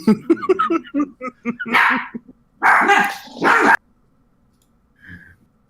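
Dogs bark in a loud, close flurry, with short yips and a few sustained harsh bursts, then quiet and one fainter bark near the end, no talking.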